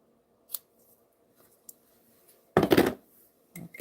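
Scissors make a few faint isolated snips, then one loud, close, crunchy cut lasting about half a second, followed by a shorter snip in a quiet studio.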